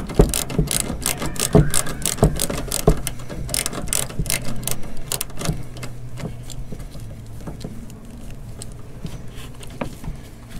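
A screwdriver or ratcheting tool clicks repeatedly while an LED headlight is fitted on a Fiat Ducato motorhome, producing rapid, close ratchet ticks in bursts that thin out toward the end.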